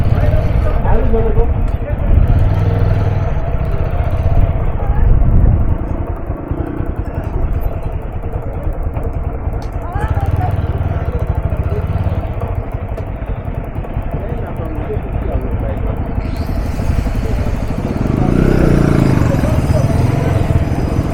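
A motorcycle engine idles and revs low as the bike is turned around on a hill road between Sittong and Darjeeling, a continuous close rumble with some clatter, and people talk over it.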